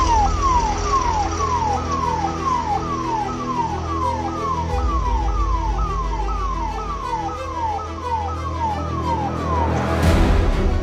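An ambulance siren wails, sweeping up and down in a steady repeating cycle on a Delhi street, loud and close over low traffic rumble, with a brief burst of noise near the end.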